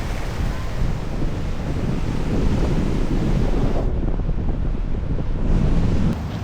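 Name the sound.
large ocean waves on a beach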